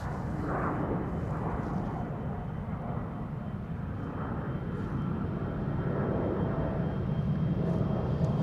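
Jet airliner departing Amsterdam Schiphol Airport, a steady broad engine roar holding loud and continuous throughout at an airport setting, with no speech.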